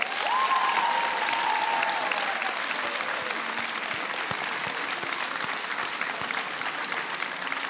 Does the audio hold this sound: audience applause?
yes